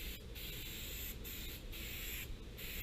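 An aerosol spray can mists a light coat across a carbon fiber windshield part, in four short, faint hissing bursts spaced unevenly over a quiet background.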